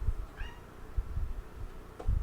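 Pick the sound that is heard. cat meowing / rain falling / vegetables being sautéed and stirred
cat meowing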